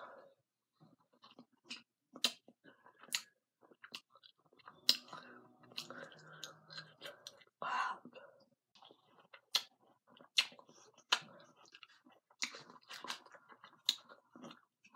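Close, quiet mouth noises of someone biting into and chewing juicy oranges at a mukbang-style meal, with repeated wet crunchy bites and smacking in an irregular rhythm, plus a few soft breaths between.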